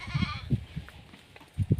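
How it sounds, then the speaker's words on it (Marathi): Goats and young goat kids let out of an enclosed pen to graze bleat close by, several short, loud calls clustered at the start and again near the end, with quieter farmyard noise between. "शेळ्या सोडल्यात तर पिले बघा कसे आढळलेत"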